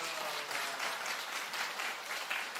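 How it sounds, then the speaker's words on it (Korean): A church congregation at an autumn revival service claps for the worship team, a steady, fairly faint wash of many hands clapping that carries on evenly without talk. "우리 이 멋진 찬양팀 여러분이 우리 친구들 박수 좀 해줘"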